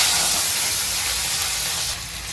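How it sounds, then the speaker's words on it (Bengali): Fish dropped into hot oil bursts into a loud, hissing sizzle that fills the space up close, steady and bright, then eases slightly at the end. "এখন মাছ ছাড়বো আমরা"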